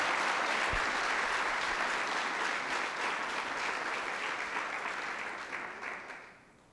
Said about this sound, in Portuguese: Se for aplaudir, aplauda Jesus.